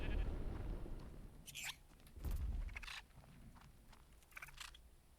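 Sheep bleating in a few short bursts in the video game Ark, over a low, rumbling background, with soft clicks and shuffling steps between calls.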